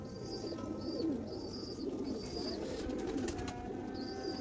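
Sialkoti pigeons coo in a low, continuous, overlapping murmur, with faint higher chirps now and then from nearby birds.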